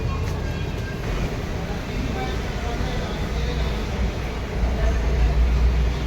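A Delhi Metro train ride toward the Red Fort: a continuous, loud, low rumble of the moving carriage that swells slightly near the end.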